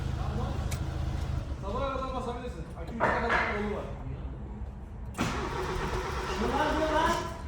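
A Honda Civic with a newly rebuilt engine, its spark plugs not yet fitted, is cranked repeatedly but fails to catch, giving bursts of starter whirring over a low rumble while people talk close by.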